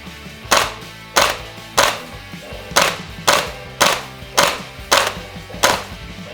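VFC UMP9 airsoft gun fitted with a suppressor, nine muffled single shots at a steady, slightly uneven pace, each a sharp close pop with a short decay.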